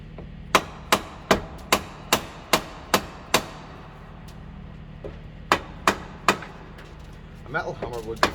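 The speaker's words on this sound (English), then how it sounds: "A metal hammer would be fine as long as you're delicate. You just need to tap" Sharp metallic hammer taps strike a suspension strut on an R50 Mini Cooper in a quick regular series, pause, then resume with a few more blows and light rattling.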